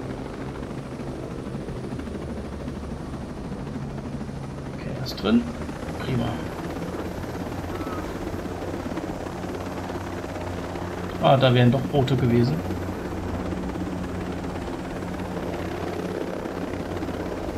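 A helicopter drones steadily through the whole stretch during a mission in the video game Operation Motherland, with a continuous low rotor and engine hum under several bursts of talk.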